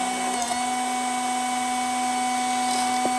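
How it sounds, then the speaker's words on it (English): A slot car tyre truer's small electric motor runs fast and steady, a continuous loud whine with a faint tick near the end as a knife trims the tyre. "I like to run my tyre truer quite fast"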